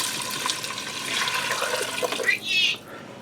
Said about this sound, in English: I'm going to add in 4 cups of water.